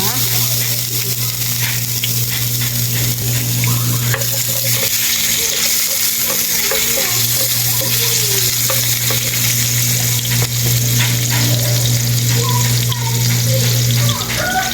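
Ginger sautéing in oil left over from frying fish, a loud continuous sizzle and crackle held close for the whole stretch, a steady low hum running beneath, with no speech.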